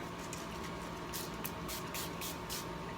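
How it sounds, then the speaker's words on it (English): Black paint sprayed onto paste paper, a close, steady hiss with several brief louder bursts of spray, no talking. "Okay, what do I spray this one with?"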